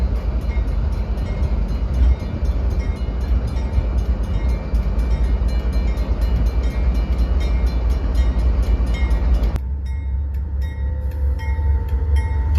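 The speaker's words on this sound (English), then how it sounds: "After coming to a brief stop, NS-20 then started up again with a total of 4 crew members inside." A Norfolk Southern freight train at Marion, Ohio rumbles loudly with a deep, continuous drone and rhythmic rail clatter as it moves, then the heavy rumble drops away to a quieter hum near the end.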